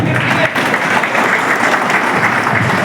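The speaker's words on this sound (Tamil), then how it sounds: "அவருக்கு ஒரு கைத்தட்டல் கொடுங்க" A Rotary club ceremony audience applauds a teacher, giving a brisk, dense burst of clapping that stays loud and even throughout with no speech on top.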